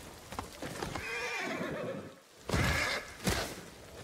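A horse neighs in the video game Ghost of Tsushima, with a long whinny followed by loud hoof clip-clops and a snort, heard close with no talking.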